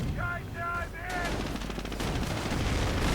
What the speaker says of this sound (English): Another strafing run could be used here for devastating effect